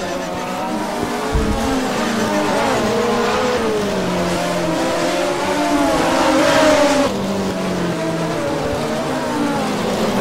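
Race cars accelerate hard out of a corner on the Long Beach street circuit, a loud continuous engine roar with rising and falling revs and a brief tire squeal, several cars passing close together.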